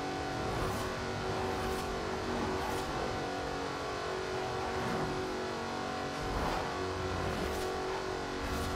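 A Jaguar Project 7 races in Forza Horizon 4, its engine droning loud and steady with repeated revving swells, close up and without talk.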